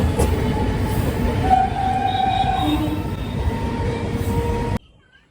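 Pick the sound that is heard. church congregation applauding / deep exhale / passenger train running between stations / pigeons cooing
passenger train running between stations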